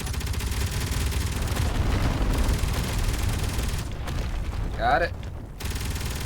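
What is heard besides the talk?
gunfire from enemies in Space Engineers video game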